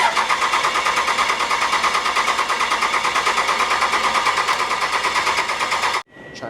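A 1957 big rig's 650hp Cummins diesel cranks steadily in a fast, pulsing rhythm for about six seconds, loud and close, then cuts off abruptly with a brief quiet tail.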